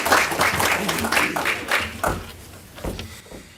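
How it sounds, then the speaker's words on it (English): Applause from an audience at a city council meeting, honoring the new mayor pro tem: a burst of moderate clapping that thins out and fades over a few seconds. "give her a round of applause"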